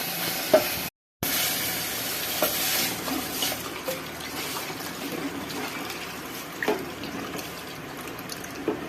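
Tomato mixture hisses and sizzles steadily in a hot pan, a continuous frying crackle with occasional soft bubbling and stirring sounds, no talking.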